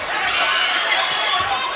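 A boxing arena crowd roars in a dense, steady wash of cheering and chatter, loud and continuous throughout.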